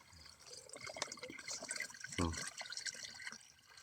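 Water is pumped and poured into a container, a continuous splashing, gurgling fill with a brief rush of liquid midway, heard close amid low background noise.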